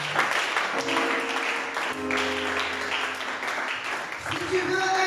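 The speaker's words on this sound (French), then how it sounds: "Acclame le Seigneur." A church congregation applauds the Lord, dense continuous clapping filling the room, mixed with voices and sustained musical tones throughout.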